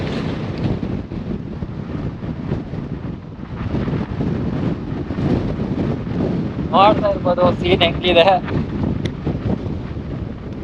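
Strong, gusty wind buffets the microphone in a constant roar at Manikyadhara Falls, Chikkamagaluru, Karnataka, while a person speaks briefly partway through.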